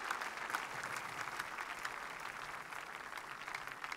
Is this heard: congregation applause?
yes